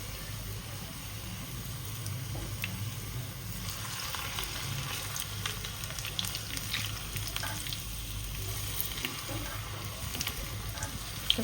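Manchurian balls deep-frying in hot oil in a home kitchen, a steady soft sizzle and bubbling that carries on evenly throughout with no talking.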